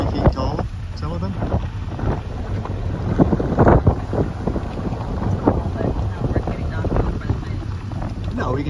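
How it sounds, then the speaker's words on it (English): Strong wind buffets and roars steadily across the microphone outdoors in Iceland, rumbling low and gusting throughout, with faint voices under the noise. "It is very windy outside."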